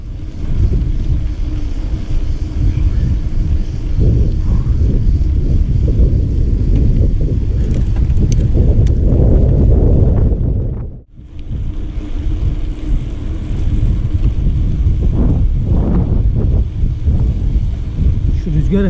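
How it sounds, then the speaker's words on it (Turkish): Strong coastal wind buffets the microphone in a constant low roar near the Arsuz lighthouse in İskenderun, with a brief lull near the end before the gusts return. "Rüzgar deliriyor."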